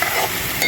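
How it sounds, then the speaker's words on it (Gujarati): Onion drops into hot oil and sizzles loudly at close range, a dense, steady hiss lasting under a second. "થઈ ગયું તેલ, ડુંગળી નાખી દેવાનું"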